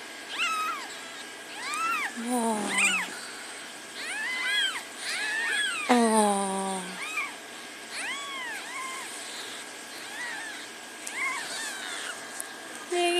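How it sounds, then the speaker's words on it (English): Several high, thin newborn kitten mews overlap in quick bursts, some drawn out and wavering, with a person briefly exclaiming softly under them. "It's a ball of kittens."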